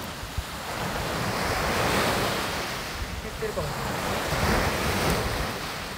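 Ocean waves wash onto a beach by a seaside campsite, with strong wind buffeting the microphone in a continuous, loud roar that swells and eases as the surf rolls in.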